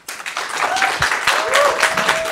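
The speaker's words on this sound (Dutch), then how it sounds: "Dus ik wil graag een applaus voor mijn panel." Audience applause for a panel at a Keti Koti cultural program in Utrecht, loud steady clapping close by for a couple of seconds, with a few brief voices or whoops mixed in.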